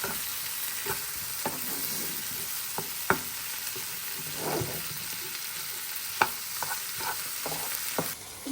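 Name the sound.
sautéing ingredients in a pan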